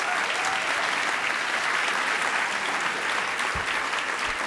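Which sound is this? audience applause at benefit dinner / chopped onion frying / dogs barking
audience applause at benefit dinner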